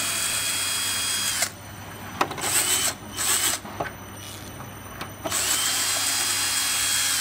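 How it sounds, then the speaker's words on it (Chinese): A power screwdriver whirs near the mic in several short bursts, backing screws out of a Kwheel LQ solowheel electric unicycle, with brief pauses and a steady mechanical drone between runs. "这边螺丝打开"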